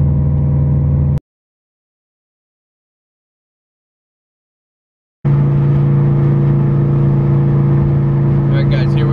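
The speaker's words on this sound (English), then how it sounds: "so you can hear what it's like, you know, right behind the car with some revs" A Subaru STI exhaust, heard from right behind the car, gives a loud, steady droning rumble that cuts out for several seconds of silence and then returns just as strong.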